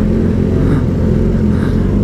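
Yamaha R6 motorcycle engine revving while overtaking another bike, a loud, steady close rumble with wind noise.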